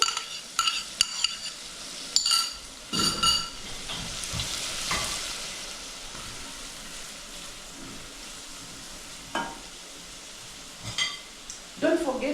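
Onions frying in a mix of butter and a little oil, a soft steady sizzle with intermittent scraping and clinks of a utensil against the pan; a voice speaks briefly at times.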